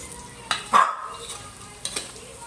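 Fish balls and kikiam frying in a pan, a soft steady sizzle with a few clinks and scrapes of a utensil stirring against the pan, close by.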